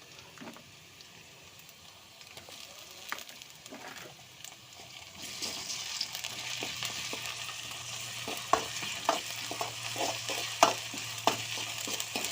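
Ginger garlic paste frying in a pan for a meal maker curry, a steady close sizzle that grows louder midway, with scattered sharp clicks and scrapes of stirring.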